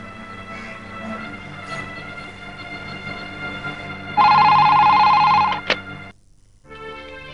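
A telephone rings loudly for about a second and a half after a stretch of background music, then cuts off abruptly, followed by a brief quiet pause as the music resumes.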